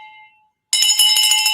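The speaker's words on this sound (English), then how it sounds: "We're going to ring that bell and we're going to get this going" A handheld bell rung in a real estate wholesaling office to celebrate a closed deal: a short faint tone fades out, then after a brief pause a loud, bright burst of rapid ringing carries on to the end.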